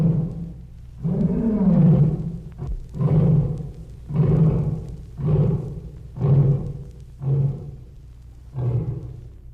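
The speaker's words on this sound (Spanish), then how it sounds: "habían sabido interpretar el rugido del león" A lion on the African savanna roars, opening with a long rising moan and then a run of about seven deep, rhythmic grunting pulses that fade in strength, loud and close.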